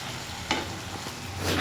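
A meat curry with potatoes sautéing in a pan gives off a steady close sizzle, with a soft scrape of stirring partway through and no talk.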